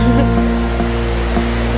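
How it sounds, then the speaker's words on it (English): An indoor waterfall runs steadily inside a bioactive animal house with exotic birds at Prague Zoo, a continuous rushing wash over a low, constant hum, with no speech. "Oh, waterfall's on."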